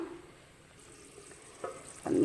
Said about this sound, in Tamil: ஒரு பத்து நிமிஷம் கொதிக்கட்டும் நல்லா உப்பு காரம் எல்லாம் செக் பண்ணிட்டு நல்லா கொதிக்கட்டும்